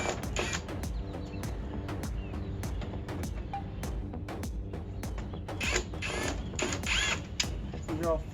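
Phillips head screws being backed out of a Jeep Cherokee XJ headlight: close ratcheting and clicking of a screwdriver with sharp ticks and small metallic clatters, and faint sounds in the background.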